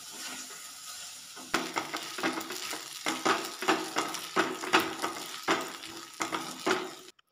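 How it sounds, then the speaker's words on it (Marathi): Sabudana tempering in hot oil in a pan gives a steady close sizzle, broken by a run of rhythmic scraping stirs. No one speaks. "आता लगेच वरून आले आणि शाबू फोडणी टाकायला घेतलाय."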